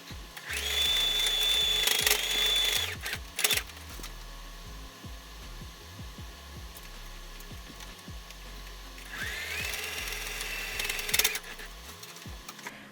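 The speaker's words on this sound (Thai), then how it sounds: "ก็นำไปเย็บให้ติดกันค่ะทำแบบนี้ทั้งสองด้านเลยนะคะ" Sewing machine stitching fabric pieces together for a knitting project bag: two long steady runs of fast mechanical whirring, separated by a pause with a few handling clicks, close and fairly loud.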